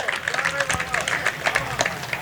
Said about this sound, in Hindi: इसमें तालियां आनी चाहिए दोस्तों